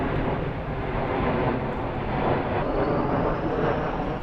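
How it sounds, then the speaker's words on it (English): A steady, loud broadband roar from an airplane flying low over a garage near an airport, filling the whole stretch without a break or any talking. "Garage is near the airport, so planes fly over all the time."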